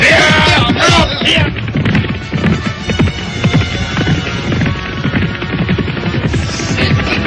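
Hooves of a horse pounding in a steady clip-clop rhythm during a fight scene in an Indonesian period drama, loud and continuous with dense background action throughout.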